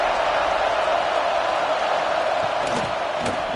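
A loud, dense football stadium crowd roaring steadily in a continuous wash of cheering at close range, with a few louder swells near the end.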